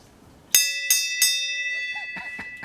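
Three bright metallic bell strikes ring out in quick succession, each with a long shimmering decay, followed by a few softer faint knocks as the tones fade.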